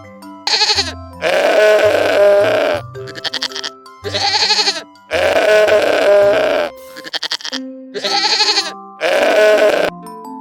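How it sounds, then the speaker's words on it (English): A goat bleats loudly several times in a row, long wavering cries close by, separated by short pauses and a few grunting sounds. "Goat says meh."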